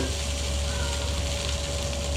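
Sausages with ginger sizzle loudly in a hot pan as they are stirred, a dense, continuous close-up frying hiss with no pauses.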